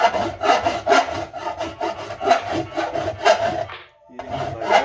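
A rasp scrapes lead filler on a car air cleaner in regular, rhythmic strokes, loud and close, with a brief pause before the filing resumes.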